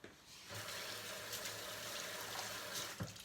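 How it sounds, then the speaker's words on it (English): Tap water runs steadily over a pear being rinsed in a sink, a close continuous splashing gush that starts abruptly and keeps an even level, with a small clunk near the end. "I rinse it off again"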